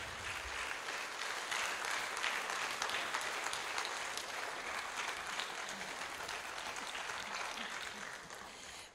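An audience at an outdoor classical music festival applauds a soloist with sustained, dense clapping throughout, fairly distant and even, with a voice faintly underneath.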